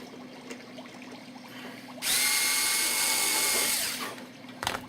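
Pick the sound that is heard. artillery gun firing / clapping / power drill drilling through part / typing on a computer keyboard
power drill drilling through part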